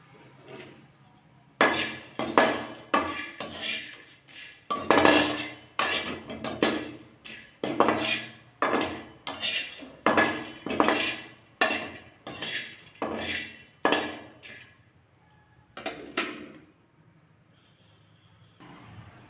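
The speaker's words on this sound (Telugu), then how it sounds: "బాండీలో ఎండు మినపకాయలు వేపుకోవాలి" Dry red chillies roasting in a kadai give off a rhythmic run of scraping, clinking strokes against the metal pan, loud and close, repeating steadily before slowing to a few final scrapes.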